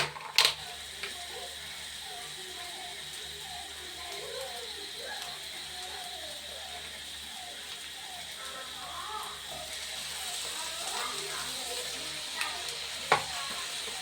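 Vegetables with ginger fry in a pan, giving a soft, continuous sizzle with scattered scraping clicks and a couple of sharp knocks, moderately close, without speech.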